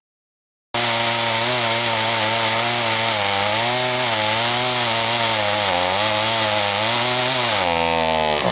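Chainsaw engine running at a steady high whine throughout, loud and close, its pitch wavering slightly and shifting near the end.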